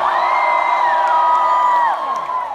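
Concert crowd in San Antonio roars with high sustained whoops and cheers layered together, loud and full, easing off slightly near the end.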